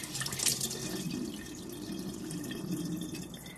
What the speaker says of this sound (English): so we're going to pour off this water